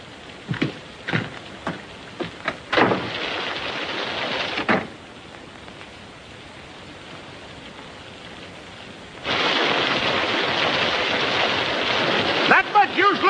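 A rainstorm in a 1939 western film roars in bursts of heavy downpour, with sharp thunder cracks early on and a loud surge of rain near the end.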